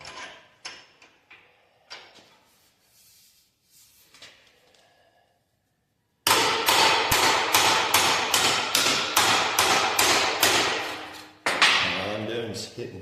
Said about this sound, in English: all I'm doing is hitting right on the brake. Trying to lock in the bend.